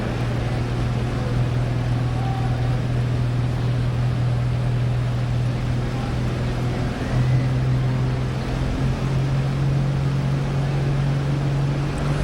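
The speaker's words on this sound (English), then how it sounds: "7910 is the model of this tractor on the starting line." A Ford 7910 tractor's big diesel engine idles on the starting line at a tractor pull in Louisville, Kentucky, a steady low drone that shifts pitch slightly, heard without any talking.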